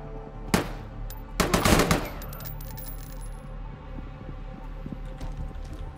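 Gunfire from distant shooters in the survival shooter game Deadside: one sharp crack, then a short burst of rapid shots, followed by faint scattered pops over a steady background rumble.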